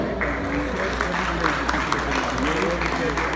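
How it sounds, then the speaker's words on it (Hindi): A crowd at an Eid Milan gathering in Vancouver applauds in a continuous patter of clapping while a voice carries on over the noise. "इन सब के लिए भरपूर तालियां हो जाए।"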